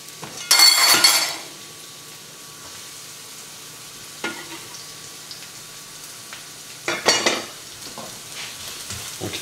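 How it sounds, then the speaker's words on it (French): Chopped onion and garlic sweating gently in olive oil over low heat while being stirred, a soft steady sizzle with a few brief bursts of stirring and the clink of a utensil against the pan. "on va le mettre donc à revenir légèrement dans l'huile d'olive."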